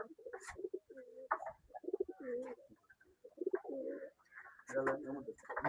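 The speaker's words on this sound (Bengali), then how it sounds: "এইখানে নর কবুতর গুলা" Male pigeons coo in a loft, giving repeated low throaty rolling calls in short bursts with brief pauses between them. The calls are close but faint, and a voice is heard quietly among them.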